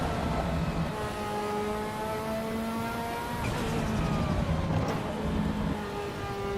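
A Ferrari F40 engine in a racing video game drones and revs continuously, pitch climbing through gear changes, with the sustained howl of a high-performance motor throughout.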